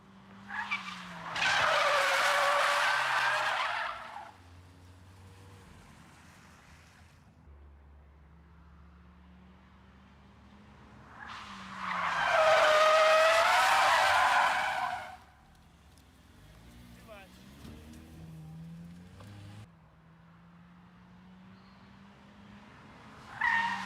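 A front-wheel-drive car drifting backwards gives two long, loud tire-skid squeals a few seconds apart over a low engine drone, then a third short squeal begins at the end.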